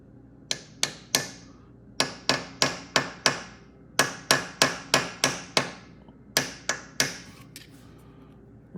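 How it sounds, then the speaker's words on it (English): Sharp metallic taps from a brass hammer striking a deep well socket, struck in quick bursts of three to five with short pauses between, close and crisp, while fitting a shifter shaft seal. "I switched from steel hammer to brass hammer"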